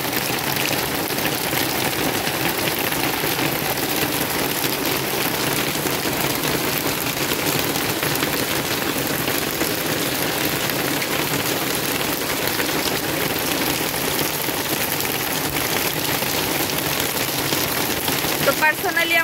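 Heavy rain pounds down in a dense, loud, unbroken roar of drops hitting surfaces, lasting the whole time.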